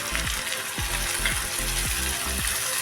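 Onions sizzle in a pan as tomatoes are added for jowar upma, a steady hiss of frying broken by regular scraping stirs of a spoon against the pan, no talk.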